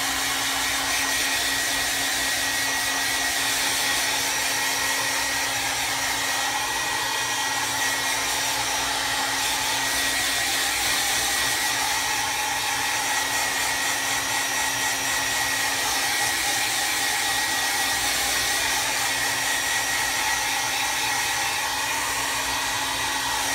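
A hair dryer blows steadily and loudly on an art journal page coated with Mod Podge, a constant whirring hum with a fixed motor tone that holds unbroken throughout, with no talking over it.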